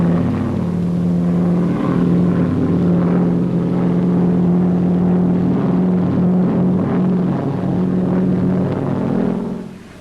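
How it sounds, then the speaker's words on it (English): An Auster Eaglet light propeller aircraft with dual controls flies at the Farnborough air show, its engine giving a loud, steady droning hum with a strong low tone that holds throughout and eases off only at the very end. "The Auster Eaglet, the light aircraft par excellence."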